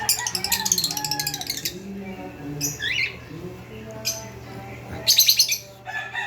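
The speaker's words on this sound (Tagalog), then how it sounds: "Sila mga kaibon, kaya pakainin ko muna sila mga kaibon." Pet birds at feeding time, including blue bar pigeons, chirp, tweet and squawk in short, lively bursts close by, with a person talking faintly underneath.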